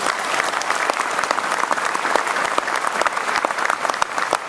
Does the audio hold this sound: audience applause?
yes